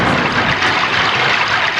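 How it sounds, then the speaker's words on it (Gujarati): A loud, steady thunder-and-rain effect accompanies a Ramdevpir ramamandal devotional stage performance, giving a dense, unbroken roar of rain-like noise throughout. "આકાશમાં વીજળીના ચમકારા કરાવું અને ઝરમર ઝરમર મેઘ વરસાવું"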